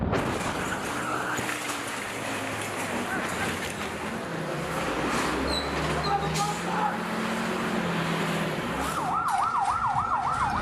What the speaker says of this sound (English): One of countless ambulance calls overnight in Gaza.